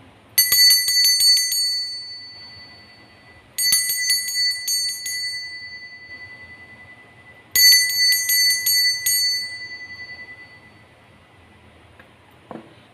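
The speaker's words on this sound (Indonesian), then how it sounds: "di sini kita akan mulai saja dengan ditandai lonceng berbunyi." A bell rings out three times to open a zodiac tarot reading, each loud, bright burst made of quick repeated strikes that fade before the next one, with no other sound in between.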